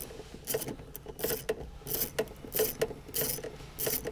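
A socket wrench ratchets as it loosens a headlight bolt on a BMW, with short bursts of clicking repeated several times and brief pauses between strokes, close up and alone.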